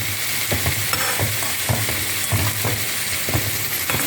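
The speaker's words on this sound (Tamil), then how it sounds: "இந்த வெங்காயம் கொஞ்சம் நல்லா வதங்கணும்." Onions sautéing in a pan while cooking tomato rice with potato fry, a steady close sizzle with repeated scraping and stirring clicks from a spoon against the pan.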